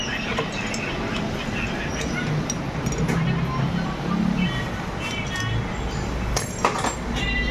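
Loose metal parts clinking and rattling as the gear cross is pulled out of a Bajaj Maxima auto-rickshaw gearbox, scattered light metallic taps over a steady low background, with bright clinks clustering near the end.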